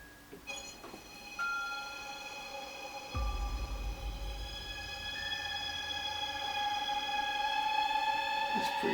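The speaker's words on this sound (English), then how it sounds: "This is Black Hole by a company called Eventide, and it makes everything sound so cinematic." A violin run through the Eventide Black Hole reverb plugin set fully wet, heard as sustained, shimmering tones that swell into a huge, dense wash with a deep low rumble joining midway, with no dry attack left.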